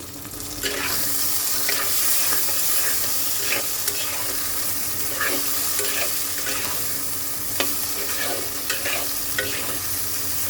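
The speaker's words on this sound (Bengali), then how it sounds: "এবার আলুটাকে দু এক মিনিট সুন্দর করে ভেজে নেব" Diced potatoes with green chilies and salt fry in a pan for a fish curry, with a loud, steady sizzle and frequent scraping taps from a stirring spatula.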